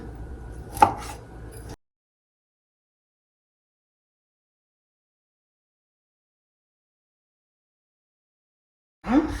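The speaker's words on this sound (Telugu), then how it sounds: "చూద్దాం మనకి ఎలా వస్తాయో ఇప్పుడు కత్తితో. నేను జస్ట్ ఒక ముక్క కట్ చేసి చూపిస్తాను శాంపుల్కి" A knife cuts through a single boiled vegetable piece on a kitchen board, giving one sharp, close chop near the start, followed by long silence.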